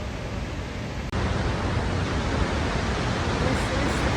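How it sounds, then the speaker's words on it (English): Roaring broadband rush of a 92-metre freefall waterfall in Rogaland, Norway, heard from the edge; a steady, loud, dense wash of falling water that swells suddenly after a brief dip and continues unbroken. "This is the famous waterfall."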